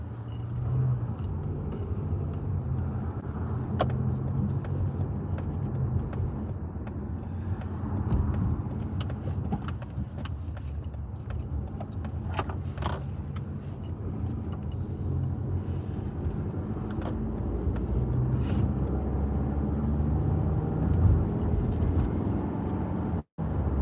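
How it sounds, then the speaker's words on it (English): A Mazda CX-30 crossover driving on the road, heard from inside the cabin as a steady low engine and road rumble with tire noise, continuous and even throughout. "This is a Mazda CX-30. Rocking the mom mobile."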